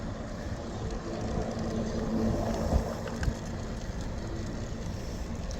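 A Traxxas TRX4 RC crawler with a Hobbywing Fusion 8IGHT system climbs in first gear outdoors, giving a steady, rough motor drone with gravelly crunching and a couple of sharper knocks as it works up the slope.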